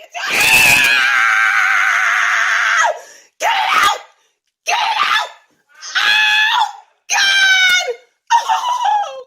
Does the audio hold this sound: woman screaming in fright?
yes